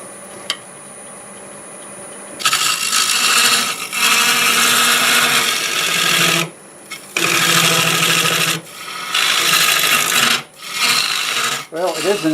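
A turning tool cuts a step into a spinning wooden blank on a wood lathe at about 800 RPM, part of a wooden manhole cover, making loud, rasping scrapes in several long bursts separated by brief pauses.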